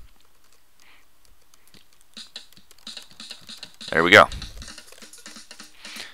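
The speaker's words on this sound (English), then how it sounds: "I'm just playing on my keyboard, hitting different letters" Someone taps computer keyboard keys to play drum sounds in the Addictive Drums music software, giving sparse soft clicks and then a louder burst of strikes near the middle, with a voice speaking briefly over them.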